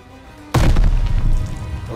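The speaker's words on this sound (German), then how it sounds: "Okay, die ist jetzt explodiert." A sudden loud explosion booms in the World War II shooter Call of Duty Vanguard on PS5, a single heavy blast that rolls on and decays, with no talk over it.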